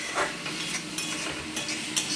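Drumstick greens fry and get stirred in an oiled wok, with a constant sizzle broken by several sharp scrapes and clinks of a metal spatula against the pan.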